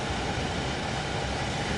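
A train pulls out of St Pancras station in Train Sim World 2, a steady, moderately quiet low rumble and hum with no distinct events.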